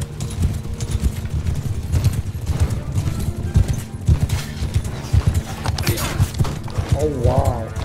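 Cavalry horses gallop in a strategy video game, with steady clip-clopping hoofbeats rolling loud and continuous under battle noise, rising near the end.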